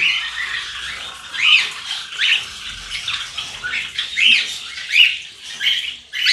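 Cockatiels at a breeding setup squawk in repeated sharp bursts, several birds calling roughly every second, close and fairly loud over a quiet background with no talk.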